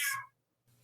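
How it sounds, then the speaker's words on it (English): A house cat gives a single short, close meow, bright and loud at first, then fades into quiet with a faint low hum continuing underneath. "Apologies for the cat."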